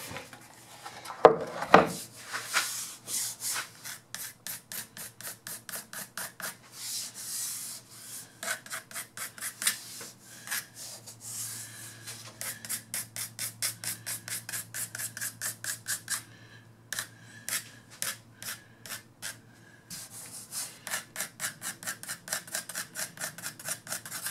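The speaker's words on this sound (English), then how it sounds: "as I'm sanding. So I won't have any high or low spots." Hand sanding of wood for a Mission-style secretary reloading bench, heard as repeated rhythmic rasping strokes, close and moderately loud, in quick back-and-forth bursts with short pauses between runs.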